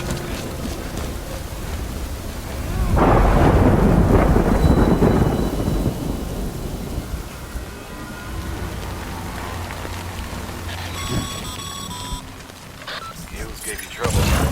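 Steady rain pours in the video game Death Stranding, and a deep, rolling thunderclap swells up loud before fading back into the continuous downpour.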